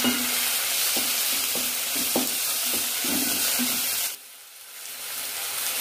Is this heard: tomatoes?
yes